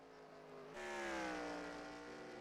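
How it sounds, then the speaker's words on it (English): A race car in a simulated oval race at North Wilkesboro downshifts for a corner late in a 100-lap event. Its engine note drops abruptly, then swells and holds at a high whine that slowly sags. "You hear him downshifting for the corner again."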